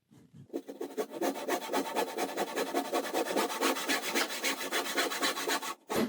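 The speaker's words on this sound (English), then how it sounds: "So a bit of sandpaper. That'll take off those little rough edges." Sandpaper rubbed back and forth over a freshly sawn wooden half lap joint to smooth rough edges, a steady rapid rasping rhythm of close, even strokes running throughout.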